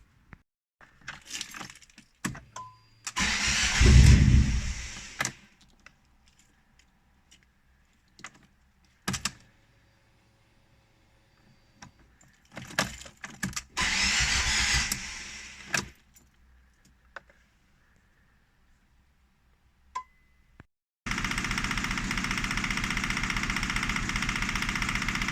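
After a replacement engine is fitted, a Fiat Panda is cranked for the first time with a couple of short whirring starter attempts and clicks, then catches and settles into a steady idle, recorded close by.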